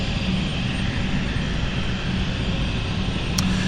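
A Zurich-bound airliner at London City Airport, its engines producing a loud, steady, broadband roar that holds constant throughout, close and unbroken, with no talk.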